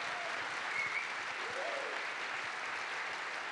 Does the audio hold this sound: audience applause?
yes